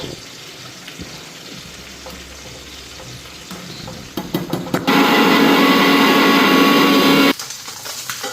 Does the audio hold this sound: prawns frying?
yes